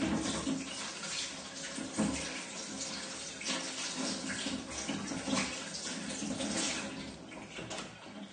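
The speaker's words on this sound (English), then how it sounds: "you need to go and wash your hands again" Tap water running steadily into a sink while hands are washed, a continuous close splashing hiss with no talk.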